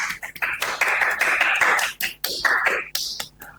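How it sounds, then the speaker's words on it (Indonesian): Short burst of clapping from a small group at a school podcast session, the claps dense and close for a couple of seconds, then a few scattered follow-up claps. "Oke, tepuk tangan."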